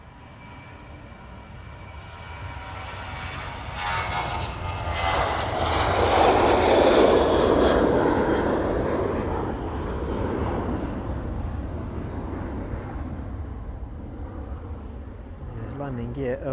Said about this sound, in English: Landing gear away, starting its climb out.